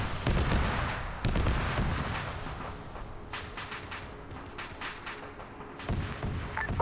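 Rocket explosions and gunfire in a video game, heavy booming blasts followed by rapid sharp cracks and scattered shots, loud and continuous with no voices.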